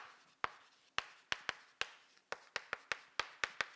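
Chalk or marker writing on a lecture board during a Korean finance class on CPA exam problems: a close, irregular run of sharp taps and short strokes, with nobody talking.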